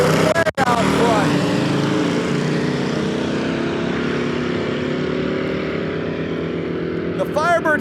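Two drag racing cars launch and run side by side at a duct tape drag event, one a 3rd gen Firebird with a carbureted small block Chevy, producing a loud, sustained engine roar that swells and holds close by throughout.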